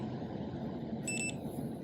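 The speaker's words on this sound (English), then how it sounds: "You should hear the operator beep twice" Two to three short high electronic beeps in quick succession from an LCN 6440 automatic door operator, brief and fairly clear over a low background hum.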